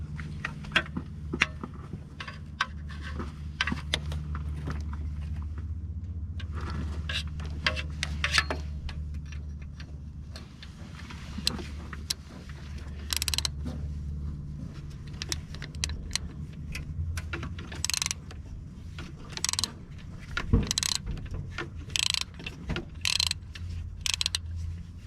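Someone undoes an alternator bolt on a Peugeot 407 2.0 HDI. Close metallic ratcheting and tool clicks come in irregular bursts, mixed with clinks and knocks as the wrench works, and no one talks.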